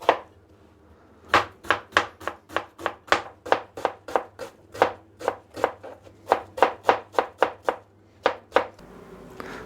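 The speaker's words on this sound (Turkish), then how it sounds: "Şöyle soğanlarımızı da ufak ufak doğradık." A knife chops onions finely on a board in quick, steady strokes, about two dozen crisp taps in a row, close and clear, with no talking.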